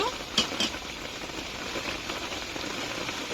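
Mutton frying in a pan with hot water being poured in: a steady hiss and sizzle with a short splash near the start, close and continuous.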